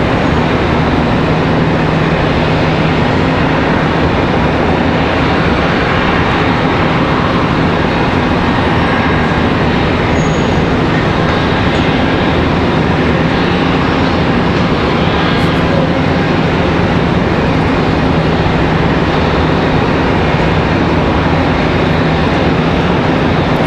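A US Airways retro-livery airliner at Charlotte Douglas International Airport gives a steady, loud, broadband engine roar that holds without a break, with no voices over it.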